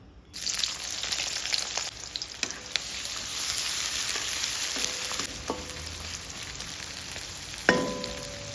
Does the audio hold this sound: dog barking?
no